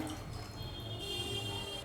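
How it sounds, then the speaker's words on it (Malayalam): Half a cup of water pours steadily into a Kerala-style moru curry of yogurt and ground coconut in a pan, a faint, continuous trickle and drip with no talking. "ഒരു 1/2 കപ്പ് വെള്ളം കൂടി ഒഴിച്ചിട്ട് ഒന്ന് ഒഴിക്കാം."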